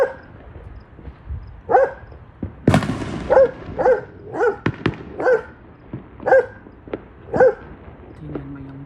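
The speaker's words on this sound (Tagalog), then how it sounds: "Yung aso namin hindi fan ng fireworks." A pet dog barks repeatedly at a steady rhythm, close by, during Fourth of July fireworks at night, with a loud firework burst near the start and a few whimpers toward the end.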